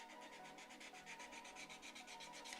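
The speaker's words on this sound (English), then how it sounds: "when I sand, I like to go in one direction" A sanding stick rubs over plastic parts of a 1/35 scale Takom T-54B tank model, giving a steady, close, rhythmic scraping of quick even strokes with no pauses or talk.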